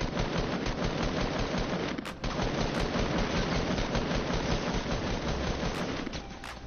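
Rapid, continuous automatic gunfire in the video game Fortnite, dense and loud throughout with a few sharper shot cracks standing out, and no talk over it.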